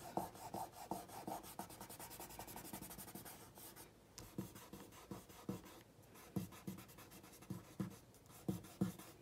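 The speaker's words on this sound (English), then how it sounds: "you can take your thumb and you can smear it" A thumb smears pencil shading on paper, a soft, close rubbing with rapid back-and-forth strokes and a few firmer scrubbing bursts, quiet and without talk.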